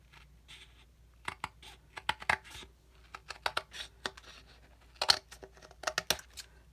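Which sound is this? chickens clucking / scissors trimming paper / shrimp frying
scissors trimming paper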